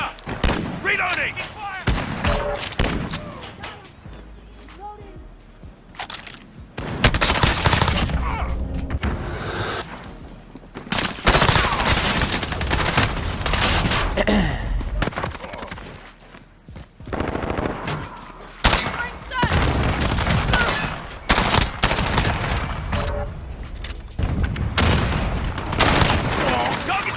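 Gunfire in Modern Warfare team deathmatch crackles in repeated bursts and booms across the whole stretch, loud and close, with a player talking over the shooting.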